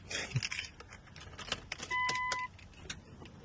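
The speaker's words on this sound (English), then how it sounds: "I can hear the fuel pump turning on." Fuel pump priming in a Nissan Skyline R34 GTR after replacement, a steady whine of roughly half a second with a clear tone, heard near and alone amid keys jangling and small clicks.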